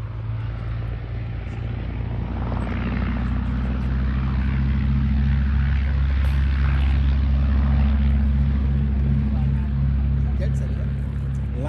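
A Westland Lysander propeller plane takes off from a short runway at an airshow, its loud, steady engine drone dominating throughout while people chat nearby.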